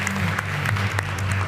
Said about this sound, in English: one more round of applause for Domuso